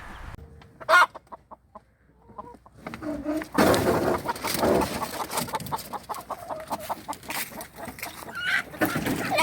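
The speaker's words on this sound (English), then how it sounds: "I'm going to be keeping those chickens here just to try to get them the healthiest they can." A few sharp clucks sound close by, then a flock of molting chickens clucks and squawks continuously over a noisy, busy background.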